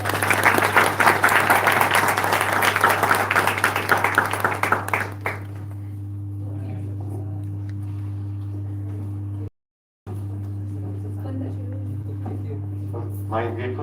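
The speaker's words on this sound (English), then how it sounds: "let's give a big round of applause and welcome" An audience applauds to welcome a guest lecturer at a university lecture on drug release and tissue bioavailability, with loud, dense clapping for about five seconds before it fades to a quiet room with a steady electrical hum.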